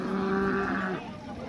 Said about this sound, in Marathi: समोर आपल्याला आज बाजारातली टॉपची गाय दिसते जे अण्णा ढाणे वस्तात कुरडोकडे यांच्या आहे